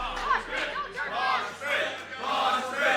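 A wrestling arena crowd at a WFA Reborn heavyweight championship show roars and cheers in a steady, dense wash, with shouts rising and falling throughout and a swell near the end.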